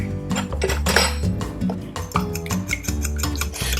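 Eggs are cracked into a bowl and scrambled for a one-egg omelet. Close, loud clinks and rapid rhythmic tapping of a utensil against the bowl fill the whole stretch.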